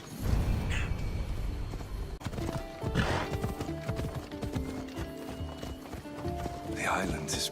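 Horse hooves clip-clop steadily through a ride in Assassin's Creed Odyssey, set on an island with beaches. A horse whinnies now and then, and people talk over the hoofbeats throughout.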